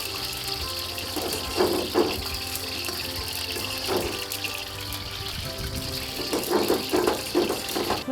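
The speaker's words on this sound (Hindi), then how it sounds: "मैं अब ये पॉइंट में इसमें पानी डाल के फिर कंसिस्टेंसी सेट करूँगा" Water poured into a pan of simmering curry masala for keema kofta curry, a steady close pour with a continuous rushing wash and brief louder splashes, heard alone without speech.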